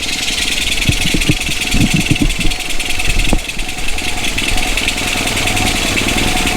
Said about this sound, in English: she's idling without full choke